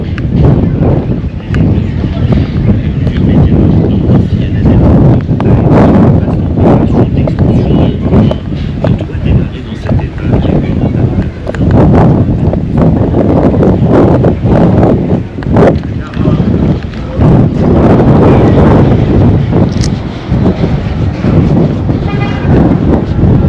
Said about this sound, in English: The wind is too much today.